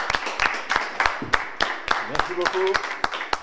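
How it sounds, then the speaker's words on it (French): Audience applause at a conference, sparse rhythmic clapping with sharp individual claps at a steady pace, while a voice speaks briefly over it. "que je vous demande d'applaudir"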